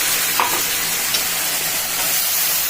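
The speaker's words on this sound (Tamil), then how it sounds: "நல்லா அதுவும் எண்ணெயிலே வேகட்டும்" Onions, crushed garlic and ground tomatoes fry in oil for a fish curry, a constant close sizzle with a couple of short scraping stirs over it, no voices.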